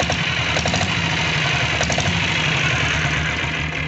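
A 6 HP Royal Enfield Bullet diesel motorcycle engine idles loud and close, a steady rapid thumping beat with no pauses or change in pace.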